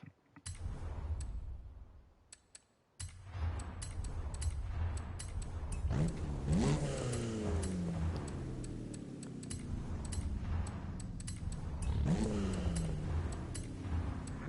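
Vauxhall Corsa engine in the racing game Forza Horizon 5, a loud steady drone that starts after a brief lull and climbs in pitch through repeated rising revs, with sharp shifts near the middle and again toward the end, no talking.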